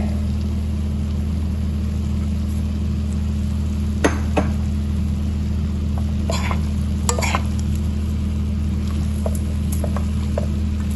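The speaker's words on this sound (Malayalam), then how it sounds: "ഞാനിത് ചേർക്കുന്നത് ഉള്ളിയും കരിയാപ്പിലയും കടുവും കൂടെ വറുത്ത് ചേർക്കുവാണ്" Onion, curry leaves and mustard seeds fry in hot oil for a Kerala-style aviyal, giving a loud, steady sizzle with a few sharp clinks and stirring scrapes near the start and middle.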